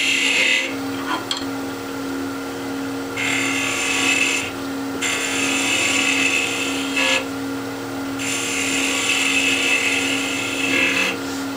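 A lathe tool cuts a taper on a wooden chess piece, a steady motor hum broken by repeated harsh, bright scraping bursts of a few seconds each as the cutter bites and lifts.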